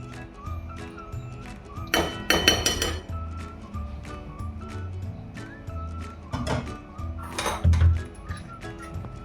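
A spoon clinks against a thick-bottomed steel kadhai as ghee is added, giving a few scattered metallic taps and clatters, close and moderately loud, with soft kitchen noise in between.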